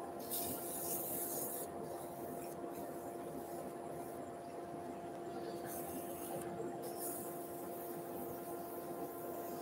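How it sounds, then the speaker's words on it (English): Sandpaper rubs a wooden bead turning on a lathe at a slow 800 speed, a steady faint hiss over the motor's constant hum, with a few brief breaks in the rasp. "We'll sand our bead."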